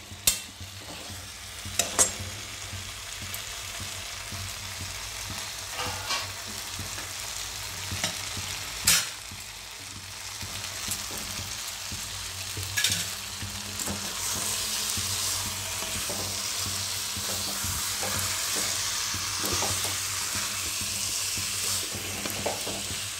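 Chunks of jackfruit fry and get stirred in a pan for Bengali jackfruit curry, giving a steady close sizzle with frequent scraping and clacking stirring strokes. A few sharper knocks stand out over the continuous hiss.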